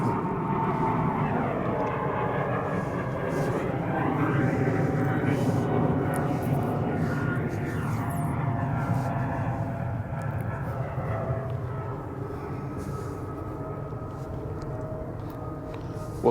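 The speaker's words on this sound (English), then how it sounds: "We're in the flight path." Airplane flying overhead at night above a graveyard, a steady droning engine roar with a slowly shifting pitch that persists throughout, with people talking quietly underneath.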